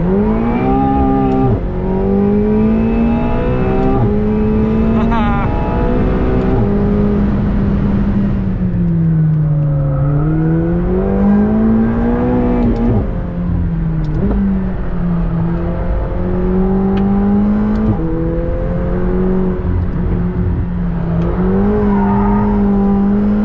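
A 2021 McLaren 720S Coupe driven hard on a race track in sport mode, its engine rising and falling steadily through revs and gear changes, loud and close from inside the cabin with no talking.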